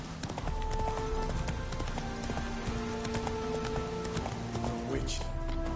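Roach the horse's hooves clip-clop steadily on the ground in The Witcher 3 video game, a rhythmic trotting beat under game music and dialogue.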